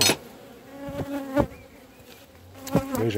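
Honey bee swarm being moved into a small nucleus hive, a steady buzzing drone of many bees close by with several sharp bumps and knocks of handling, no talk.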